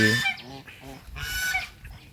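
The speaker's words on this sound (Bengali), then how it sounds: "রাজহাঁস সাঁতার কাটতেছে" Swimming geese honk loudly and close, a few harsh nasal calls in quick succession with brief pauses between them.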